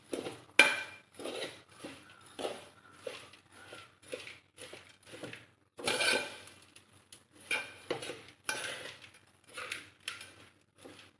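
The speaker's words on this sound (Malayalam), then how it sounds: "അവലിങ്ങനെ ഇളക്കി ഈ കറുപ്പ് കളറാകുന്ന വരെ നന്നായിട്ട് ഇളക്കി കൊടുക്കണം അവൽ" Flattened rice (aval) stirred in a pan until it darkens, with close, rhythmic scraping and rustling strokes repeating every half second or so, with no talking.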